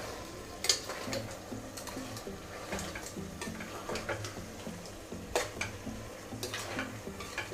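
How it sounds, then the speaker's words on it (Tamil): Crab pieces for a crab biryani are stirred in a pan, producing quiet, rhythmic ticks and scrapes of a utensil against metal over a faint, low sizzle. "இப்போ நண்டு சேர்த்துட்டு நல்லா பரட்டி விடுங்க."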